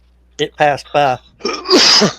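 A single loud, close sneeze bursts out right after a brief spoken phrase.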